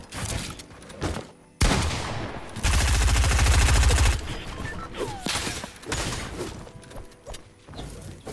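Rapid gunfire in a shooting video game: several short bursts, then a long sustained automatic volley, followed by scattered single shots and impacts, loud and close.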